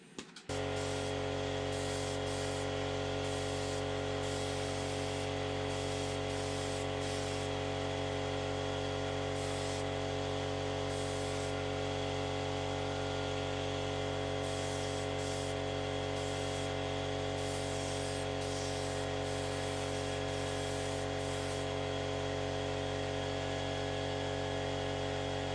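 Continuous hissing spray of PVA release agent being applied to a composite wheel pant mold, with a steady humming compressor-like drone underneath and faint interruptions, sustained for about twenty-five seconds with no talking.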